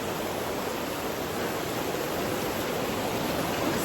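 Rough river water rushing steadily over stones in Portland, Jamaica, a dense continuous roar close by with no breaks.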